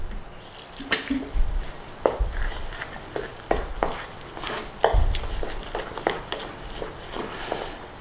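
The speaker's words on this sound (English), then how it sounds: "Mix it all in there guys." Onion bhaji batter is stirred by hand in a bowl, giving a continuous run of wet, sticky squelches and soft clicks, close and moderately loud.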